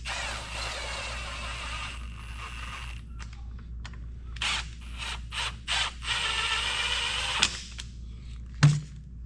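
T27 Torx screws run down on a Stihl 400 chainsaw, with a ratcheting driver clicking in several short bursts and mechanical whirring between pauses, close and moderately loud, ending in a couple of sharp knocks.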